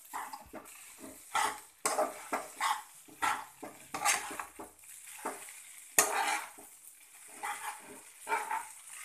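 Poha is stirred in a pan, with repeated scraping strokes in an uneven rhythm and a quiet sizzle underneath.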